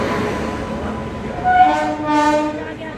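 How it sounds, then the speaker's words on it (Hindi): A Tejas Express train pulls in at Ghaziabad behind a WAP 7 electric locomotive, with a steady close rumble of rolling wagons and a loud horn blowing in two long blasts during the second half. "आ गया अपना ट्रेन गाजियाबाद का WAP 7 लोकोमोटिव के साथ अपनी ट्रेन आती है"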